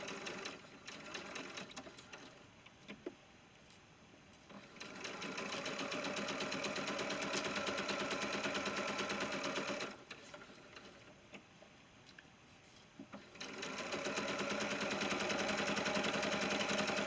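Sewing machine stitches a lace gown for a ball-jointed doll, running in steady motor bursts with brief pauses between seams, close and clear with no talking.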